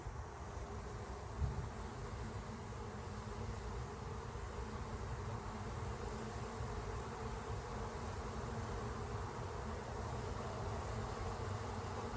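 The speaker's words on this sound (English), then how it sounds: "Oh my, what a lot of bees." Dense, steady buzzing of a large honeybee swarm crowding a swarm trap being moved into a 10-frame deep hive box, close and continuous throughout with no voices.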